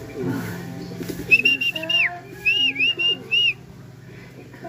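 Racing pigeons coo near a loft, soft throaty calls mixed with brief whistle-like notes in short repeated bursts, close and clear over a quiet background.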